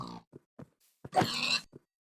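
Several short, gruff pig grunts in a game, separated by silences, with one longer, louder snorting grunt near the middle.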